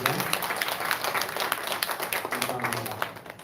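A church congregation applauds at a live-streamed service, sustained, lively clapping from many hands with a voice speaking over it.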